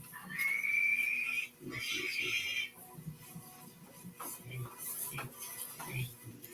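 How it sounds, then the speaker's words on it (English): A pig squeals from a television show playing in the background, giving high, drawn-out cries in two bursts. Clattering household noises and faint murmuring follow at a distance. "Oh, I hear like a pig squealing."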